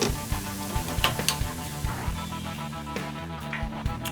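Eggs and ground turkey frying in a pan, a steady close sizzle with intermittent stirring clicks and scrapes, alongside a rhythmic background beat.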